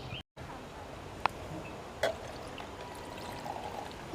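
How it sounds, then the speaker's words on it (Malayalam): Boiled black pepper water being strained, making a steady, fairly quiet pouring trickle with a couple of light clinks. "നേരത്തെ നമ്മൾ തിളപ്പിച്ചെടുത്തില്ല കുരുമുളക്, അത് നമുക്കൊന്ന് അരിച്ചെടുക്കാം."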